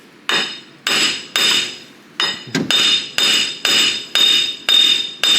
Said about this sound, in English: what I usually use to break them loose if they're in there good. Hammer? And a big hammer.